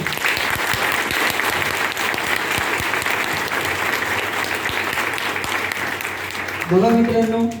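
Audience applause at a grand celebration event for a silver producer, loud dense clapping filling the room continuously for several seconds, with a voice briefly rising near the end.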